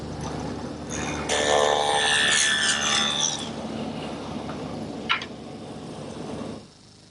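A woodworking saw cuts through wood in a workshop, set against its fence while building a marble roll. A loud two-second rasping cut is followed by a quieter hum and a brief sharp knock near the end.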